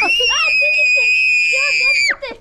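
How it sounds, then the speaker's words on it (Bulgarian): In a crowded fishing shop packed with over 400 children, one long piercing high scream rings out close and loud, then breaks off into short shrieks amid background chatter. "Имаше над 400 щастливи деца, някои пищяха от радост."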